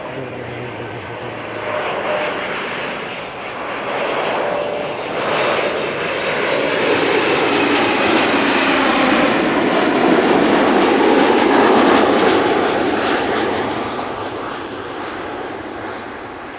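A jet airliner on landing approach at Amsterdam Schiphol Airport roars past close by, a loud broadband rush that swells steadily to a peak and then eases off, with no talk over it.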